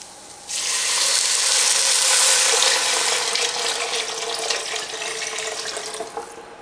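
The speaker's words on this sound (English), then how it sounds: "And we'll put in our 6 cups of water." Six cups of water pour steadily into a pot of split peas with a bright, rushing splash that gradually softens and tapers off, close by with no talking.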